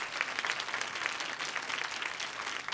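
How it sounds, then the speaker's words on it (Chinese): Church service congregation clapping in praise, a dense, even patter of many hands applauding continuously at moderate volume. "愿意的拍手把荣耀给主吧"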